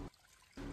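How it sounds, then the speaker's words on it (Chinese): Clean water trickles into a bowl holding butterflied fish slices and bones, a brief soft pour framed by louder kitchen noise, close and without talk. "加入清水"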